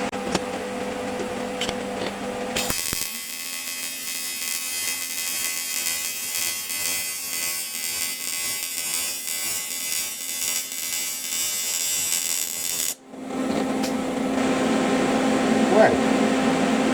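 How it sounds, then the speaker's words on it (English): AC/DC TIG welder running a bead on aluminium, a steady high buzzing hiss that starts abruptly and holds for about ten seconds before cutting off, with talk before and after. "Let's run a couple of beads of aluminium and see how that goes."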